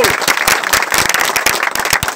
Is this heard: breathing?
no